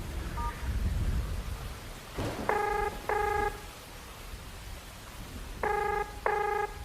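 A telephone keypad is dialed in a radio drama: a short beep, then two pairs of clear, bright tone bursts, over steady heavy rain with a low rumble of thunder.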